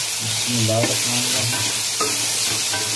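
Beef koftas drop into masala frying in a pot, bringing a loud, close sizzle with stirring scrapes and a few clunks as the pieces are turned.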